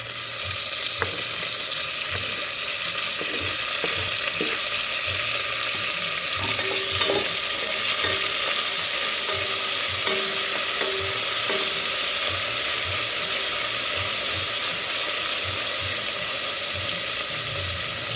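Tomatoes sizzle and crackle as they are stir-fried for Kapampangan-style mongo, a continuous loud frying hiss with scattered clinks of utensils against the pan and no talking.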